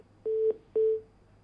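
Two short, even electronic beeps from a dropped caller's phone line on a live Hindi TV news call-in show, each about a quarter second long and separated by a brief gap, clear and alone.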